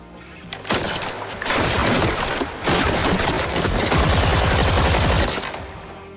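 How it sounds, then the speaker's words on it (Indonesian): Rapid bursts of gunfire during shooting practice in a gangster action film, loud sharp volleys that start after a brief lull and then run almost continuously like fusillades, with no talking. "Markus yang sedang mengajarkan mereka cara menembak agar mereka bisa menjaga diri masing-masing dari serangan gangster"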